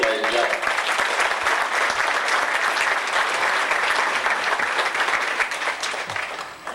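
A banquet audience gives a steady, dense round of applause for a racing champion from Bolivar Speedway, the clapping loud and continuous throughout with little else heard.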